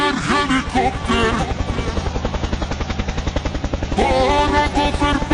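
Toy car-helicopter sounding a loud, steady synthetic rotor chop with rapid pulsing and tonal whines, continuous throughout with no voice over it.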